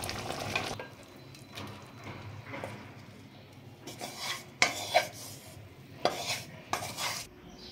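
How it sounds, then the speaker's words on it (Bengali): Prawn malai curry in thick coconut milk is ladled onto rice, with a run of scraping, rasping strokes and sharp metallic clinks of a spoon against pot and plate, close and moderately loud, with no talking. "তরকারিটা আমার হয়ে গেছে, এবার আমি ঢেলে নেবো ভাতে।"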